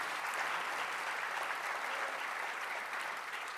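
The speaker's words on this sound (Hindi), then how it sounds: "आप ज़रूर तालियां बजाएं।" Audience clapping at a mushaira, a live Urdu poetry gathering, a dense and even roll of applause from a large crowd that holds at a steady moderate level throughout.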